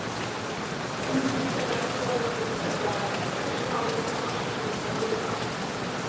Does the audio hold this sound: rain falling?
yes